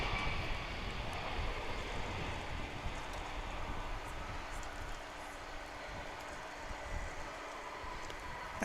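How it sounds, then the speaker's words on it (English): A large UPS Airbus A300 cargo jet approaches to land at DFW International Airport, a steady, broad roaring rumble heard from a distance with a faint low hum, no voices. "I thought that sounds like a larger plane."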